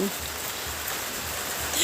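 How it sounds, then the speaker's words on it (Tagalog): Rain falls steadily over a garden full of plants, a continuous soft hiss with faint patter, recorded close and moderately quiet, with brief low sounds of movement nearby. "Umuulan na guys, kaya medyo bibilisan na natin."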